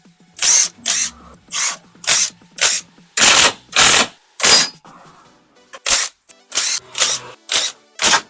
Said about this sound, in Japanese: これでね、10mm のボルトをひたすら外していきたいと思います。